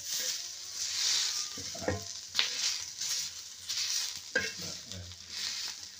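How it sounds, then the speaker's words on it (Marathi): Steady frying sizzle of finely chopped onions on a flat tava, with occasional scraping and stirring knocks from a utensil against the pan, close and continuous throughout. "बारीक कांदे बघा किती मस्त भाजले"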